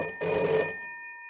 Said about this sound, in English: a library of historical ringtones from antique handsets